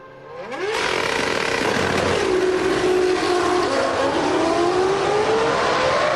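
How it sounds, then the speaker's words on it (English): A 2001 Formula 1 car, Juan Pablo Montoya's, practicing a start at the Spanish Grand Prix free practice: the engine revs up sharply, then holds a loud, buzzing, stuttering drone against the rev limiter, close and continuous. "That is just the rev limiter on the engine there to stop the engine blowing itself to pieces."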